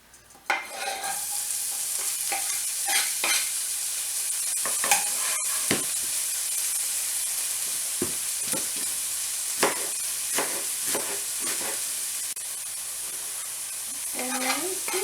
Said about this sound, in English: Got the onions in there, sauteing.